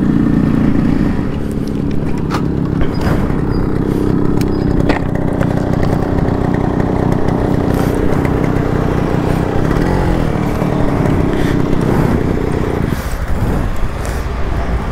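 A fully tuned Yamaha RX135 motorcycle engine runs steadily and loudly up close, a raspy two-stroke drone that holds throughout with small throttle flutters near the end.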